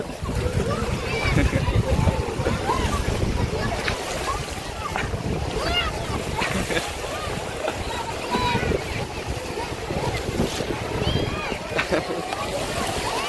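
Sea waves wash and splash steadily at Tithal beach, a constant rough roar with wind buffeting the microphone, while people talk and play nearby.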